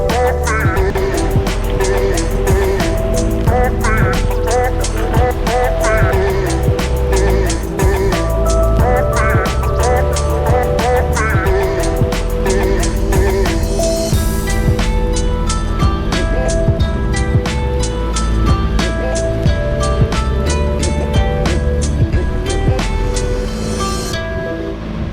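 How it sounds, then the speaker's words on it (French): A boat engine runs steadily on the water near Florida and the Bahamas, a continuous low rumble with a regular mechanical hum and ticking that holds for the whole stretch without talk. "je vais laisser marcher le moteur 2-3 minutes en haut"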